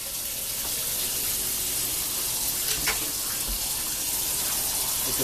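Cold water runs steadily from a kitchen tap during cooking, a continuous broadband splash with no pauses and no speech over it.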